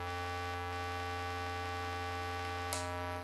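A circuit-bent Moog synthesizer holds a sustained buzzing drone through a fuzz filter: a rich, steady, hum-like tone with dense overtones that stays level, then a faint brief crackle just before it cuts off.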